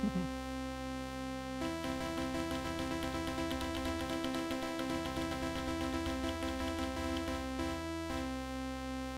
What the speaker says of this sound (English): let's hear a little bit of pulse width, or I guess phase distortion.